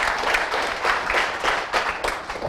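An audience at a network marketing company presentation applauds, a short burst of steady clapping from a moderately sized crowd, fairly distant and even.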